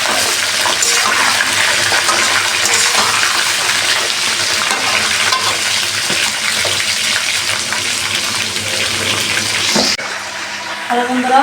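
Raw mango pieces, coated in turmeric and sun-dried, hiss and crackle steadily in hot oil in a wok for sour-spicy pickle, loud and continuous, then cutting abruptly quieter near the end.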